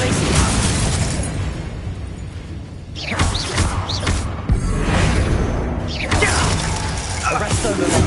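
A Confringo fire spell from the video game Hogwarts Legacy goes off in loud bursts, with roaring blasts and crackling debris repeating several times over a steady game soundscape.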